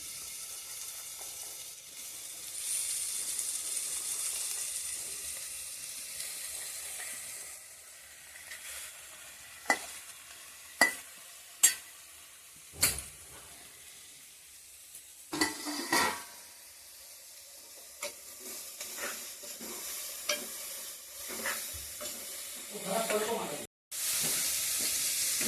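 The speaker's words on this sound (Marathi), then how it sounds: "ही भाजी ढवळून घ्यायची." Alkul vegetable fries in a pan with a continuous sizzle, broken by a series of sharp scrapes and clacks as it is stirred, ending with a brief cut and louder frying.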